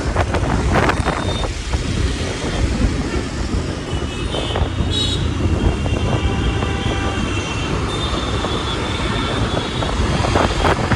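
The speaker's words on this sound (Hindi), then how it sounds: "सामने मेट्रो जा रही है पुलिया के ऊपर से।" A Delhi metro train crossing a bridge, a continuous rumbling roar with faint squeals, heard from a nearby moving vehicle amid wind noise and traffic.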